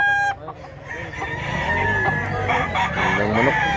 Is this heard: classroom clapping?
no